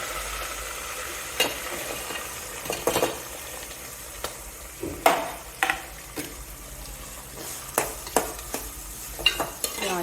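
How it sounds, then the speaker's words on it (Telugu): Onions fry quietly in a pan for a potato and corn curry, a soft sizzle broken by several sharp scrapes and clinks of a spatua stirring, with no one speaking. "ఆనియన్స్ బాగా ఫ్రై అవ్వాలండి"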